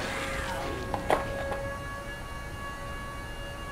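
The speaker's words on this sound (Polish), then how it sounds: "wypadłem z rytmu przez ten po prostu jakiś dziwaczny gwizd" A thin, high-pitched whistling tone hangs steadily in the background while playing Silent Hill: The Room, with a few faint knocks and clicks early on.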